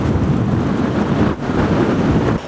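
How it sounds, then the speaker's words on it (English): Strong wind roars and buffets the microphone in a loud, steady rush, briefly easing for a moment before gusting again. "it is crazy windy"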